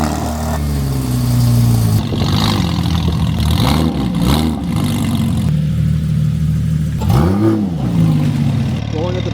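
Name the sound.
Porsche GT4 cold start with Valvetronic exhausts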